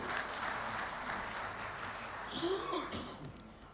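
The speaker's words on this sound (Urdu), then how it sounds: "تو ان کے لیے تالی تو بنتی ہے لازمی۔" Audience at a foundation-stone ceremony for the K4 water project in Karachi applauds steadily, a broad even wash of clapping with some voices mixed in, tapering slightly at the end.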